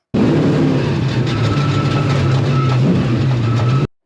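Twin-engine race truck driving in the Baja 1000 desert race, a loud steady engine drone heard close up from a sustained run that ends abruptly.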